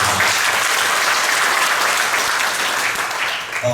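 A church congregation applauds together in a sustained, dense burst of clapping that fills the room and fades slightly at the end.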